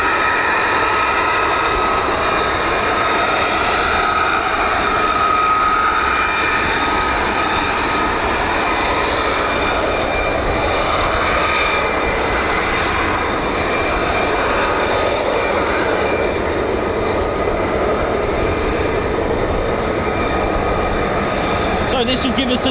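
F-15 fighter jet roaring steadily past at an air base, a loud continuous broadband engine rush with a faint tonal whine holding throughout, close and sustained without a break.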